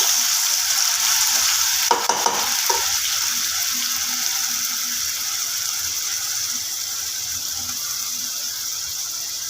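Onion paste sizzling steadily in hot oil while being stirred for restaurant-style butter chicken, a constant bright hiss with a few scraping utensil knocks early on and no talking.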